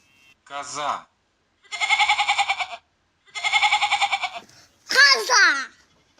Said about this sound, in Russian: Коза.